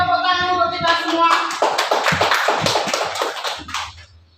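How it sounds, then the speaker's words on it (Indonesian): Audience applause at a school or teacher gathering, a burst of many hands clapping that swells after a sung or spoken tone at the start, then fades out near the end. "Terima kasih tepuk tangan untuk kita semua."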